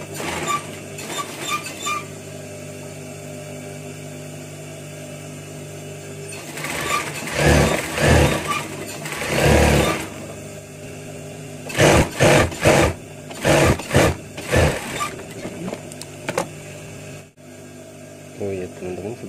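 Sewing machine stitching a two-colour women's garment, running in several short bursts of motor whir with pauses between, fairly close and moderately loud, alongside quiet speech.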